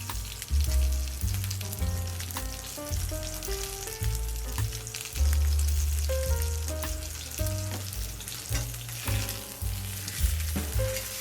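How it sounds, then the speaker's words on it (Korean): Dry-aged Hanwoo beef sirloin steak sizzles steadily in a hot pan, a dense crackling hiss with some louder bursts of spitting fat, close up. "고기가 구워지는 소리는 항상 듣기 좋아요"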